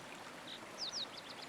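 A gentle creek flows in a faint, steady wash of water, with a few soft high chirps like birdsong briefly rising over it.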